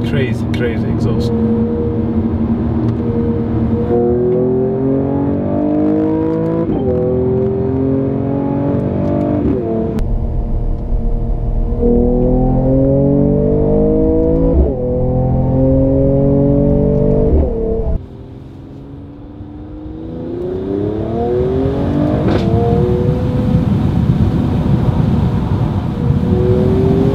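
A 2019 Mercedes-AMG CLS 53 accelerates hard through repeated gear shifts, its exhaust growl rising in pitch again and again, then easing off briefly before surging back up louder and rougher.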